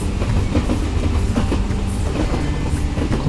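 A special decoliner train rolls along the rails in a Mars colony mission event of a train-station building game, with a steady loud rumble and rhythmic clickety-clack of wheels throughout and no talking.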